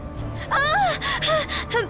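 Sharp, breathy gasps and heaving breaths come in quick bursts, close and strained, with no talking.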